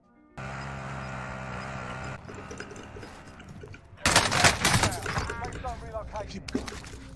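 Gunfire in Modern Warfare Warzone erupts halfway through as a sudden loud cluster of sharp shots with ringing tails, following a sustained tonal game sound; a few scattered shots trail off afterward.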